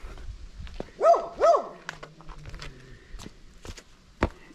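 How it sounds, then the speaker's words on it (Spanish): A dog barks twice in quick succession at close range beside a picnic area with a fountain and tables on a mountain bike trail to a hermitage, followed by footsteps and light clatter. "Y aquí, bueno, un perro que nos ladra"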